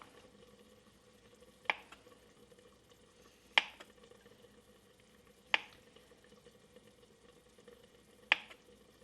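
A knife slices through a block of paneer on a cutting board, four crisp, evenly spaced cuts about two seconds apart, quiet and close against a faint background hum.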